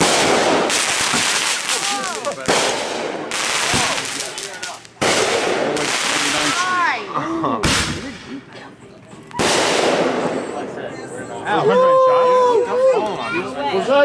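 Fourth of July fireworks explode in a series of loud, sharp bangs and crackling bursts at uneven intervals, some close and booming, while people chatter and shout nearby.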